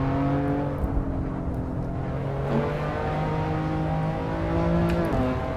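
A car driving a hot lap on a race track, its engine droning steadily with rising and shifting tones as it accelerates and changes gear, moderately loud and continuous.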